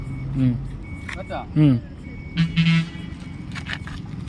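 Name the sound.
TVS iQube electric scooter reverse mode indicator beeps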